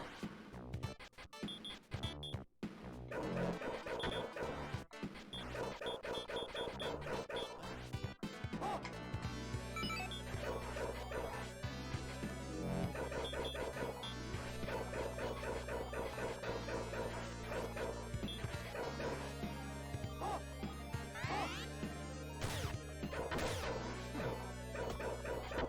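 Dogs barking and yipping in the Shinobi arcade and console game, loud and repeated over dense game music and sound effects, with a crash near the start.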